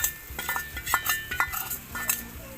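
Jujube (bogori) pickle with sugar being stirred in a pan: close, irregular scrapes and clinks of a spoon against metal, steady and unhurried with no voices.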